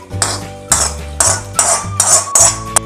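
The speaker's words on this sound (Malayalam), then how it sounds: "നന്നായിട്ട് മിക്സ് ചെയ്യാം" Unniyappam batter with soda powder and roasted coconut is stirred in a metal bowl, with six rhythmic clanking strokes of a spoon, close and loud.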